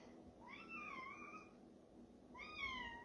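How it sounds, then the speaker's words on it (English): A cat meows twice to be let outside, two drawn-out rising-and-falling cries separated by a pause, fairly faint against a quiet indoor room. "Kitty, he wants to go outside."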